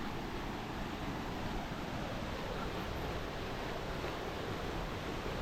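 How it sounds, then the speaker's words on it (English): A creek running heavy at a river crossing on a hot springs hike roars as a steady, loud broadband rush of water, with some wind buffeting the microphone. "you can see that creek down there is running heavy."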